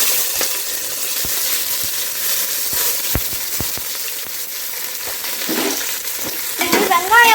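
Onions tossed into hot oil with green cardamom, cloves and star anise for chicken biryani, a constant close crackling fry punctuated by sharp spoon taps on the pot and scraping stirs, growing busier toward the end, without any speech.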